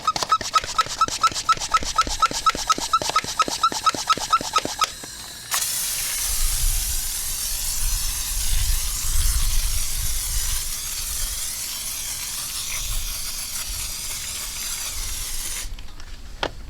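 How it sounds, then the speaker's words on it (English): A hand pump spray bottle of wheel and tire cleaner is pumped with a quick series of clicks, then releases a long, loud hissing spray that holds steady for about ten seconds before cutting off abruptly. "I'm pumping it, and I'm hearing it losing pressure"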